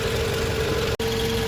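A used car's engine idles just after starting during a pre-purchase check, a loud, steady low hum with a constant tone, briefly cut by a split-second dropout near the end, with no talk.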